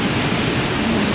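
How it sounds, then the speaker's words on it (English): Glacier meltwater pours as a waterfall at the Condor glacier in Patagonia, a close, loud, steady roar of rushing water with no pauses and no voices. "So this is the meltwater that is coming out, right?"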